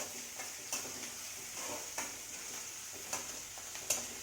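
Chopped onions with onion greens sauté in a pan for bharit, giving a faint, steady sizzling hiss. Soft spatula clicks punctuate it at irregular intervals about every second.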